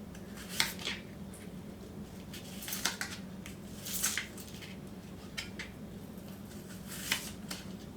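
A knife slices an onion into thin half-moon pieces on a board, giving soft, irregular chopping taps and squishy cuts close by, fairly quiet, with no talking.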